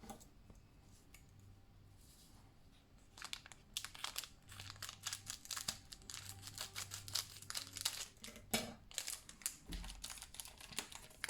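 Japanese Pokémon Eevee Heroes booster packs torn open and handled one after another, with crinkly foil crumpling and tearing in close, bursty rustles that build through the clip, no talking.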